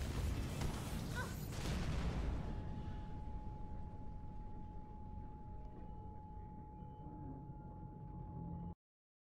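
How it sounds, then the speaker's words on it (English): Explosion in the video game Mirror's Edge Catalyst: a loud, broad blast that fades slowly into a rumbling tail and a steady tone before cutting off abruptly. "Big explosion over here!"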